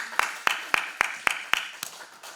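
Church congregation at a revival prayer meeting clapping in unison: seven or eight sharp, evenly spaced claps in a steady rhythm, close and crisp, with a faint voice underneath.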